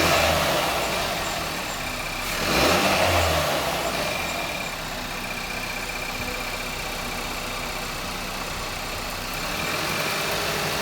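A car engine with a Turbo XS blow-off valve idles steadily at close range, with a brief swell of revving early on before settling back to a low, even rumble.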